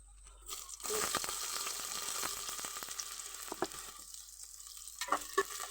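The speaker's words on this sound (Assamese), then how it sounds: "তেল অলৰেডি গৰম হৈ গ'ল। ইয়াত মই দি দিছোঁ তোমাৰ আধা চামুচ পাঁচফোৰণ" Half a spoon of panch phoron spices hits hot oil in a pan and sizzles steadily for several seconds, a close, crackling fry with scattered sharp pops and stirring scrapes, no voices.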